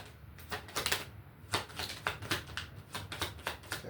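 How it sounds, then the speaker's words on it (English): Tarot cards are shuffled close by in a series of quick, crisp riffling bursts with short pauses between them, no talking. "Let's go ahead and do one more shuffle of the tarot."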